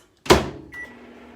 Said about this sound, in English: put the nacho cheese in the microwave for 30